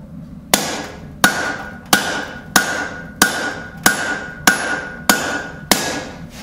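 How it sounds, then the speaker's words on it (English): Nine evenly spaced, loud ringing hammer blows land half on and half off a steel anvil while drawing out the reins of blacksmith forging tongs, each strike clanging close with a brief ring between. "Half face blows, hammers coming half on and half off the anvil."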